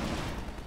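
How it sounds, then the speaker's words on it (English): Dense gunfire in the video game Half-Life 2 Episode 2, a continuous loud wash of overlapping shots with no clear gaps, filling a short burst. "There's a lot of gunfire."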